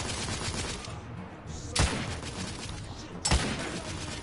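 Two sharp sniper rifle shots ring out in the Victorian-era shooter The Order: 1886, spaced about a second and a half apart over a steady rumble of battle ambience.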